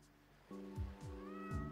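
Cartoon cat meows in the Summer Paws video game, a few short rising cries over a steady musical drone, clear and close.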